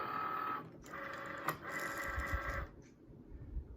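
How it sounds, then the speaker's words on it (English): A Cricut cutting machine takes in vinyl for a fall porch sign, giving a short mechanical whir with a sharp click partway through before it stops, heard up close and quiet. "the Cricut is ready to begin printing the vinyl. So we are going to thread it into the machine."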